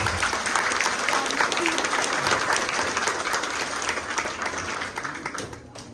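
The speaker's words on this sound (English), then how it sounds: "So let's give them a big applause one more time." An audience applauds after a children's dance performance at an annual performance day, with dense, sustained clapping across the hall that slowly thins toward the end.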